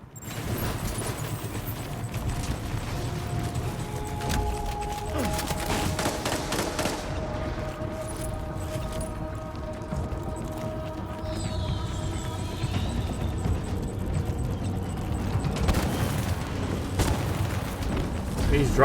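Airstrike explosions in Death Stranding 2: On the Beach: a run of heavy booms and rumbling blasts, some in quick bursts, loud and close over a continuous roar of battle noise.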